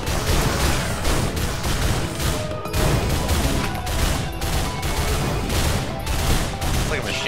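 A rapid-fire auto shotgun in the Risk of Rain video game blasts in a dense, unbroken stream of loud booming shots, with several weapons firing at once in a steady barrage.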